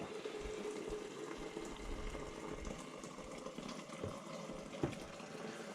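Freshly boiled maple syrup trickles and runs steadily through a finishing filter, a soft continuous liquid wash with a small knock near the end and no talking.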